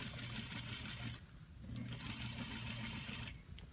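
A sewing machine back stitching at regular stitch length on a neckline facing, running steadily with a brief pause before resuming at the same close, even whir.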